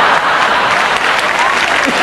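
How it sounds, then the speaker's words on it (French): Audience applause fills a comedy show at the Olympia, a dense, steady wash of clapping from a large crowd that holds loud and even for about two seconds. "La dame là-bas l'applaudit comme ça."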